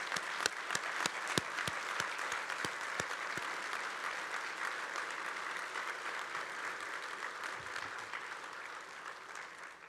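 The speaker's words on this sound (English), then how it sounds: "I would like to applaud everyone in this room" A room full of union members at a keynote address claps steadily for about ten seconds, with dense applause and a few sharp individual claps standing out early.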